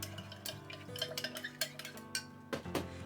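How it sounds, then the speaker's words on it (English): A utensil stirs a thick homemade hair oil mixture containing vitamin E oil in a container, giving soft, irregular clinks and scrapes that are close and fairly quiet. "because vitamin E oil is thick, so mix it well"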